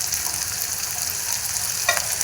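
Idli pieces fry in a pan with turmeric and chili powder, giving a loud, continuous hiss with a brief spoon scrape near the end, heard up close and alone.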